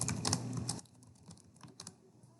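Typing on a computer keyboard, a quick burst of close key clicks followed by a few sparser, fainter taps in a quiet room.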